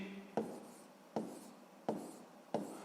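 Numbers written by hand during a sixth-grade maths exercise, four distinct, evenly spaced scratchy strokes, faint and close with no voices.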